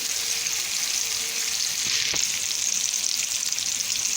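Köfte meatballs sizzle and fry steadily in a pan over medium heat, a continuous close hiss with a faint scrape partway through, no talking.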